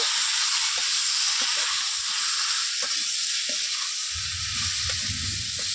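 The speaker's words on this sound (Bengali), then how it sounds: "দিয়ে দেবো লঙ্কা বাটা, লঙ্কাটা আমি আগেই বেটে রেখেছিলাম, ভালো করে কষিয়ে নেব।" Ground chili paste sautéed in a pan for a rohu fish curry with dholi kachu, a steady bright hiss of sizzling oil with occasional stirring knocks and a low rumble near the end.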